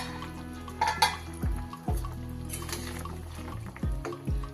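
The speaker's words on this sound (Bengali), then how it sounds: "এবার দেখে নিই ঢাকাটা খুলে" A lid lifted off a pot of boiling potatoes set over a medium gas flame, with metallic clanks and knocks over a low bubbling hum and a few light clinks of a utensil against the pot.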